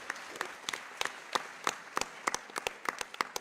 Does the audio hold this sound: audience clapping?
yes